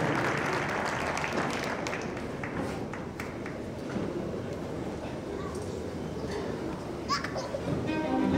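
At the MISEC 2020 show, a crowd applauds Charly Feuvrier as he enters with his two breeding stallions. The clapping is faint and distant and mixes with a constant murmur of crowd and children's chatter.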